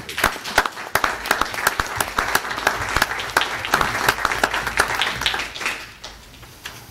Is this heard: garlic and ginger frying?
no